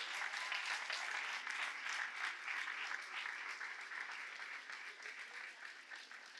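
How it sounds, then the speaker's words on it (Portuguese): A church congregation stands and applauds steadily for several seconds, dense continuous clapping at moderate distance that slowly fades toward the end, with no talking. "Aplaude junto com a irmã."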